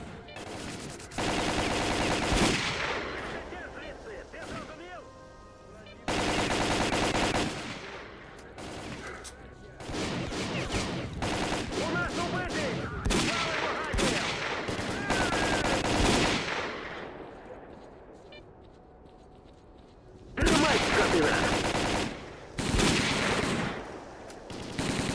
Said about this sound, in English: I don't even know who we're shooting at, bro.